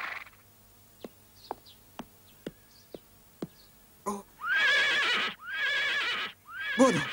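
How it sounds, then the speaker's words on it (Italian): A horse pulling a carriage gives several sharp clip-clop hoof knocks at a steady pace, then whinnies three times in long, loud, wavering calls. "porta subito fuori quel cavallo e il calesse"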